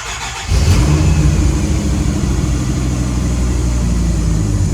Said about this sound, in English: you guys can see, started right up